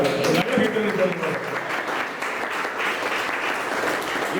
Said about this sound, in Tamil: ஸோ இப்போ நல்ல ஒரு கைத்தட்டலோடு இந்த விழாவை ஆரம்பிக்கணும்னு நினைக்கிறேன்